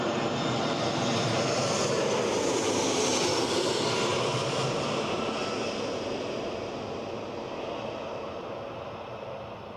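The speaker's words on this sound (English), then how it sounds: "Crikey, that EasyJet came in fast." EasyJet airliner coming in fast to land at Newcastle International Airport, a loud broad engine roar close by that holds steady and then gradually fades as it passes.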